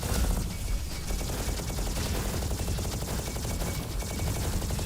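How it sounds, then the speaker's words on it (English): Turrets firing at a rapid rate in a video game, a dense, loud, continuous rattle of gunfire with no pauses and no speech. "look at how fast these turrets are firing, by the way"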